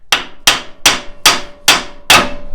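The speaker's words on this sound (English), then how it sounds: "I can actually take this and slam it to get it released from the knuckle" Six sharp metallic hammer strikes on the Ford F150 IWE 4x4 hub actuator to knock it free from the steering knuckle, evenly spaced and loud and close, each ringing briefly before the next blow, with no talk.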